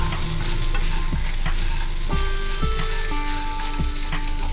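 Masala for a chicken curry sizzles loudly in a pan while being stirred, with steady frying hiss and repeated scraping strokes of the spoon throughout, no voices.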